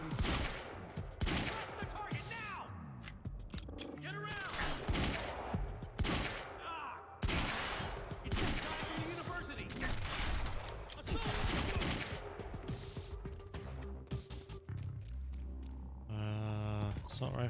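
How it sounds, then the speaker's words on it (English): Assault rifle fire in the video game Quantum Break, sharp bursts of shots repeating throughout amid game sounds and a talking voice, with a final burst near the end. "Assault rifle."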